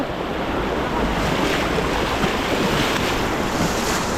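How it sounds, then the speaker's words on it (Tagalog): A strong river current rushes continuously as loud, broadband roaring water, steady and close with wind-like hiss and no talk. "Malakas na agos dito"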